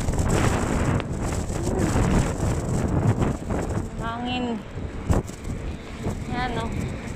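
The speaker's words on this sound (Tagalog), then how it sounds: "Hangin." Gusty wind rumbles against the microphone throughout, loud and steady, with a few brief voiced sounds and a sharp click partway through.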